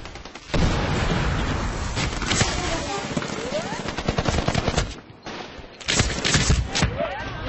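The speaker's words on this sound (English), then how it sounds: "Someone catch the grenade!" Gunfire and blasts in a Medal of Honor Warfighter multiplayer match, with loud dense bursts of shots and heavy booms running continuously, one deep explosion standing out near the end.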